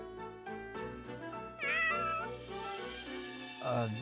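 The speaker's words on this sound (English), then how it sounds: "now that you've fixed the cat, I should bring it back to where I found it" A cat meows in the video game Fire Emblem Warriors: Three Hopes, a short cry rising near the middle and a second one near the end, heard over a busy game music bed.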